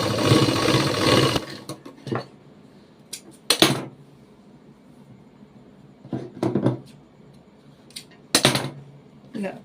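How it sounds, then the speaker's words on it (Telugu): A sewing machine stitches lace onto a garment's upper edge in short separate bursts: a longer run at the start, then several brief whirring spurts with quiet pauses between them. "పైన కుట్టు వేసేసుకొని లేస్ అయితే వేసేస్తానండి."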